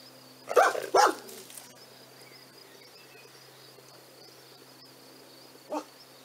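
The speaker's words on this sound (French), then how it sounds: "parfois le chien aboie" A dog barks twice in quick succession near the start, then a single shorter bark follows after a pause, over a faint steady insect hum.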